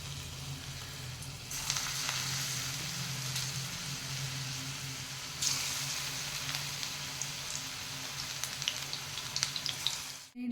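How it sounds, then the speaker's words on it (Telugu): Cabbage pakodi fritters deep frying in hot oil make a steady, close sizzle that surges twice as more batter drops in, with small crackles scattered throughout. "డీప్ ఫ్రైకి ఆయిల్ పోసుకొని పెట్టుకోవాలి. ఇలా చిన్నగా వేసుకోవాలి."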